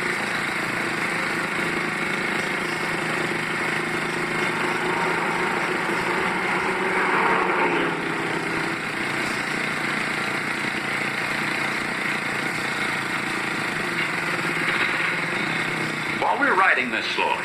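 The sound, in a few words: motorcycle engine riding slowly on country road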